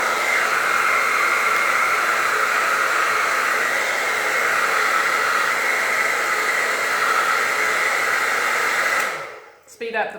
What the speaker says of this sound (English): I'm going to use my blow dryer on a cool setting